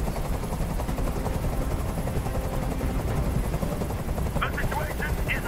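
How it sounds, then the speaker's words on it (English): In the video game Detroit: Become Human, a helicopter's steady rotor roar fills the scene, with bursts of gunfire mixed into the loud, continuous noise. "Tell that helicopter to get out of here."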